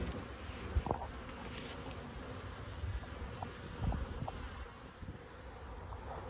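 Honey bees buzz around beehives in an outdoor apiary, a faint, steady insect hum mixed with soft wind noise and a few light knocks.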